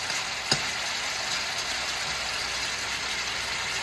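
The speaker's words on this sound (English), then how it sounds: "you don't want to boil your oxtail, you want to sear it." Turkey necks searing in a pan on a stove turned to high heat, a steady broadband sizzle holding constant throughout with one brief sharp crackle near the start.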